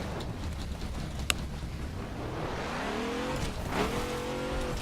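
A Saleen S7 CTR3 in The Crew warms its tires with a loud, sustained engine roar and scrubbing tire noise, the engine pitch climbing and dipping through revs, plus a brief sharp click early on.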